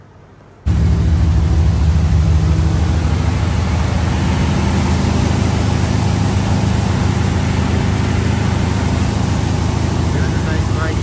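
After a brief quiet start, a car engine settles into a steady, loud, broadband idle near 1,700 RPM and keeps running evenly for the rest of the stretch.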